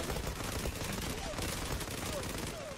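Gunfire from the online shooter Zula rattles in a dense, unbroken stream of rapid shots, held at a low, fairly distant level throughout.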